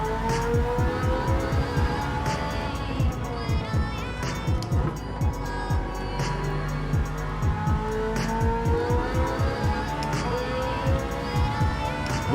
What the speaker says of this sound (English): That's what this car sounds like.